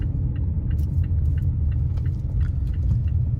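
Low steady road rumble from inside a Mazda CX-5 rolling slowly through a turn, a dense close drone with faint scattered ticks and creaks above it.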